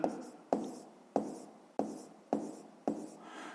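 Pen strokes on paper while writing out a math exercise come as six short, crisp scratches at roughly even half-second intervals, each fading quickly, close and quiet with no other sound.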